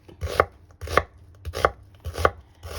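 A knife finely chopping onion on a cutting board: five crisp, evenly spaced chops, each a sharp thud, close and fairly loud, with no talking.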